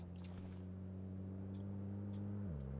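A vehicle engine in the shooter game PUBG hums steadily nearby, a low droning tone that holds pitch and then drops slightly near the end, with no talk over it.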